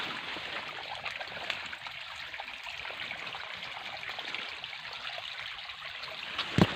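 Water pours from a plastic pipe into a field, a steady soft rushing and trickling flow that holds constant throughout, with a brief knock near the end.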